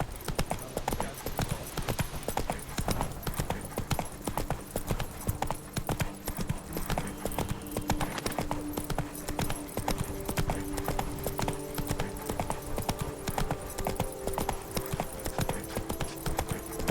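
Roach the horse trots through The Witcher 3, a steady clip-clop of hooves running the whole way, layered with game music and ambient sound at an even, moderate level.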